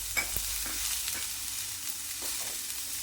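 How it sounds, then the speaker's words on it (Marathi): Finely chopped capsicum and carrot sautéing in a pan, with a soft continuous sizzle and a few faint scrapes and taps of stirring. "आणि या सगळ्या भाज्या आहेत ना चांगल्या अशा परतून परतून घ्यायच्या"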